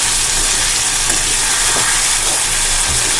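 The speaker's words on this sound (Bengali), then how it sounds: "জলটা দিয়ে দেব।" Loud, steady sizzle of button mushroom curry frying in a pan on medium flame, with faint stirring scrapes running throughout, no talking.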